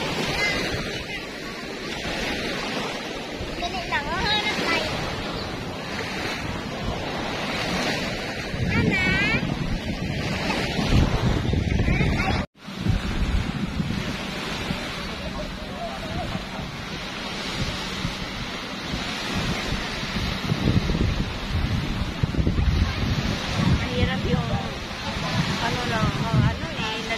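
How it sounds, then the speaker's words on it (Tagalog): Waves wash steadily onto a beach under constant wind noise, a continuous rushing surf close by with people talking intermittently over it. "Kaya nga, malakas pang alon."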